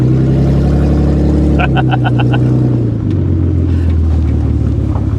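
A 1998 Audi A6 Avant wagon pulls away on the road, its engine droning steadily with a low rising hum that shifts pitch as it accelerates, heard from inside the car under faint cabin noise and a brief chirping sound.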